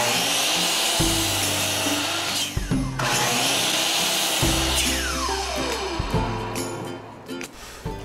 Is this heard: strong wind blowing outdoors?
no